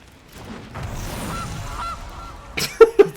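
The Gilded Goose card animation in the digital card game MTG Arena plays a goose squawk, two or three sharp, loud honks near the end after a soft game ambience, with no talk.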